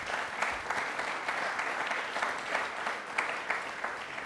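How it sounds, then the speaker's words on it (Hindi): A crowd claps during a televised Republic Day quiz program, a steady, fairly soft round of applause with individual claps standing out, continuing throughout. "एक बार तालियां जोरदार बनती है।"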